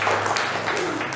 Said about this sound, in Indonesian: Sekali lagi saya mohon tepuk tangan dulu untuk Pak Mahfudin.